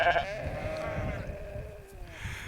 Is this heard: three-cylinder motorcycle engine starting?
no